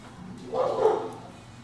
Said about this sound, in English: Sorry if you hear my dogs, they're just...